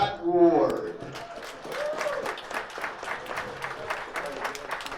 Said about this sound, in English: the room is applauding